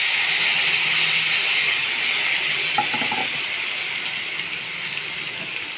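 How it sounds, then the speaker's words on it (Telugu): Chopped tomatoes with cumin, mustard seeds, curry leaves, tamarind, red chilies and garlic fry in a pan for chutney, giving a steady close hiss and sizzle with a few faint stirring clinks. "టమాటా మొత్తం పచ్చివాసన పోయేంత వరకు వేయించుకోవాలండి."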